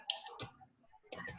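Keyboard typing on a computer during a fitness-team business chat session: a few quiet clustered key clicks at the start and a short burst near the end, with a pause between them.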